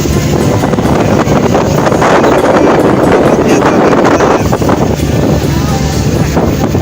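Passenger launch Crystal Cruise running at top speed on a river, a loud continuous roar of engine, rushing water and wind buffeting the microphone, with a voice faintly talking underneath.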